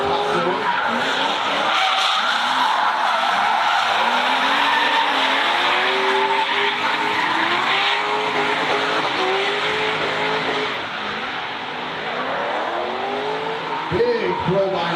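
Drift cars skid through a drift battle at an SRD event on the plains, tires squealing and engines wailing loudly and continuously while a commentator talks over them.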